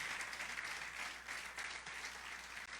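A congregation applauds during a Spanish-language church sermon, a faint, steady wash of many hands clapping that carries on without a break and without speech.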